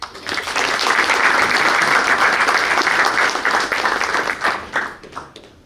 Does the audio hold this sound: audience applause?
yes